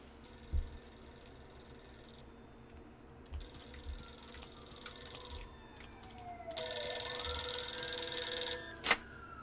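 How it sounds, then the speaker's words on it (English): A telephone rings inside a home in the video game Mafia II, its electronic bell sounding in repeated bursts that grow louder and fuller toward the end, over a quiet game ambience. "Oh, phone's ringing."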